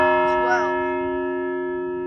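The Peekskill Fire Department bell tower bell sounds its final stroke of noon, a single loud, close strike whose deep metallic tone keeps ringing and slowly fades, with a brief voice near the start.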